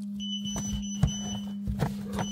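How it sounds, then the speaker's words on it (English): An electronic alarm beeps in repeated steady high tones, with soft knocks and rustles in between over a constant low hum. "What the hell is that beeping?"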